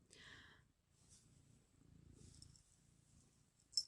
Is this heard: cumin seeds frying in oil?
no